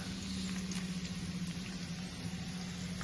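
Bay leaf and cumin tempering sizzling in hot oil, a soft steady crackle with a faint low hum running beneath it.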